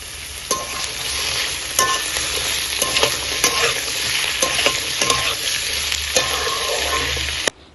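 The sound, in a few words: potatoes lightly frying in mustard oil with panch phoron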